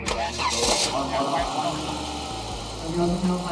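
A car engine cranks and catches at a classic car gathering, then settles into a steady, fairly loud idle while people talk nearby.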